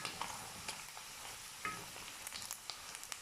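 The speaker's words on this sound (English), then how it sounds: "So this has been frying so well." Chicken gizzards sizzling and crackling in a hot pan, with quiet pops and occasional stirring scrapes, close and fairly soft.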